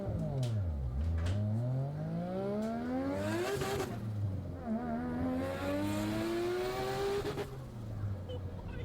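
A Mazda RX-7 engine revs hard and close, climbing and dropping through several loud sweeps, rising high near the middle and again toward the end, with a continuous aggressive roar throughout.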